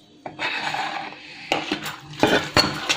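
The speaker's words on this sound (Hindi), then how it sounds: "चम्मच के साथ मिक्स करना है" Chopped potatoes, tomatoes and onions for chatpate aloo chanay are stirred with a metal spoon in a pot, giving close scraping clinks and irregular knocks that grow sharper toward the end.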